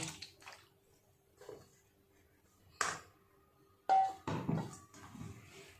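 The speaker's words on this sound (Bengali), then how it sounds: "অনেকবার ধরে জল পাল্টে পাল্টে এরকমভাবে ময়দাটাকে ধুয়ে নিতে হবে" Flour dough being washed by hand in a bowl of water, with several separate sloshing splashes and squelches spread over a few seconds, fairly close and moderately loud against quiet.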